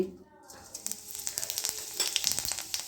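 Cumin seeds dropped into hot oil in a pan, crackling and sizzling in quick, bright pops that start after a brief quiet moment and build into a busy, close sputter.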